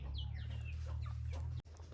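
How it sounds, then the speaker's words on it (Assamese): Local chickens cluck and call in a short burst of sharp, close clucks over a steady low hum, with a brief dropout near the end. "এই যে এইখিনি আছে লোকেল মুৰ্গী"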